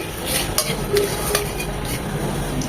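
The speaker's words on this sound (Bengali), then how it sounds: "তেলটা গরম হয়ে এসেছে দিয়ে দিচ্ছি এক চামচ পাঁচ ফোড়ন দিয়ে দিব তিন চারটা তেজপাতা" Panch phoron and three or four bay leaves frying in hot mustard oil for shukto, giving a steady close sizzle with a few light stirring clinks and scrapes, no voices.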